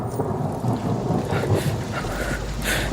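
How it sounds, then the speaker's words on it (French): Dramatized rainstorm with thunder: steady hiss of rain falling on surfaces while low rumbles of thunder roll underneath, a brief crack near the end. "La pluie."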